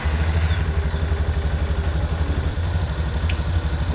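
A motorcycle engine idles steadily just after being started following a repair, its low rapid pulsing close and constant throughout, with no voices heard, on a trip through the Peruvian jungle.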